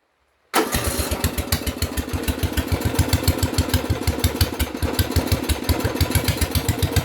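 A racing lawn mower engine starts abruptly and settles into a loud, steady, rapidly pulsing idle, heard up close with no talking.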